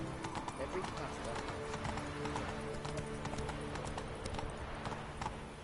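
Clip-clop of the horse Roach's hooves galloping in the video game Witcher 3, a steady rapid rhythm running under continuous talk and game sounds.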